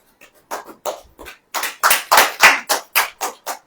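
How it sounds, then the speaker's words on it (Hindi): A church congregation claps hands in a loud burst of about a dozen sharp, fairly regular claps that grow denser and louder midway, close and clear with no talk over them. "ताली बजाइए"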